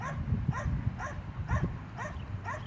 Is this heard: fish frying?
no